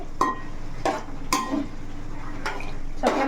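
Chicken pieces frying for chicken pickle, stirred in a pan: several sharp scraping clinks of a spoon against the vessel at irregular intervals over a constant low frying hiss.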